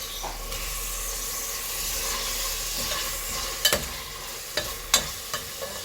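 Two tomatoes fry in a pan with a steady, close sizzle. A few sharp clanks of stirring break in near the end.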